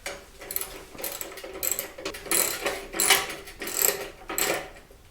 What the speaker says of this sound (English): you're going to want to go ahead and remove these two bolts here